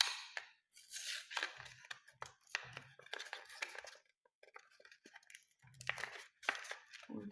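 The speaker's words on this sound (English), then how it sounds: "If I open the packaging, let's see if I can just open it like that." Plastic and paper packaging of a pack of size 28 needles being torn and crinkled open by hand, a series of sharp close rustles, rips and crackles separated by brief pauses.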